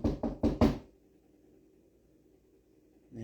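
Four sharp knocks on a door in quick succession, loud and close, followed by near silence with a faint low hum.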